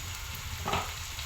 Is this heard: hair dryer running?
no